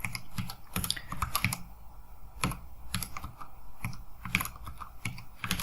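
Fingers type on a computer keyboard with quick, uneven bursts of close key clicks and a few heavier taps. The clatter is moderately quiet and goes on for several seconds with no talking.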